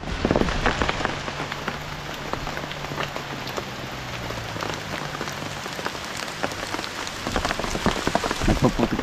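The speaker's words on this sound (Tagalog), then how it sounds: "makikita nyo, ulan na oh." Steady heavy rain pours down outdoors at a site where soil is being levelled, a dense loud patter with a low hum underneath during the first part and scattered sharper drops throughout.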